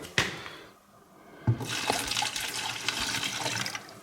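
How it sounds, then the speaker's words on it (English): Vinegar poured into an old bottle holding rusty nuts and bolts, a close, steady liquid pour after a couple of brief knocks. "we'll just put this vinegar in it"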